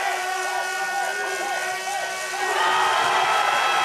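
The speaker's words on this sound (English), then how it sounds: "Listen to the crowd." Spectators cheer and roar at the Winterberg bobsleigh World Cup track in Germany as a two-man sled gets ready to start, a steady loud crowd din that swells near the end.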